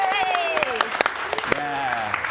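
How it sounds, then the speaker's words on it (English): A live audience claps for a tech booth operator at an improv show, with scattered sharp claps under cheering voices and speech. "Round of applause for Anthony."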